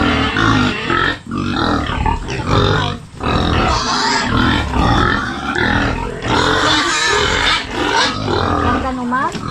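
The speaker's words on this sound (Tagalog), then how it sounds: "Kararawag pa naman ng baboy ay." Loud, continuous rough grunting and snorting from a pig bought for December, close and dense throughout, with people talking over it.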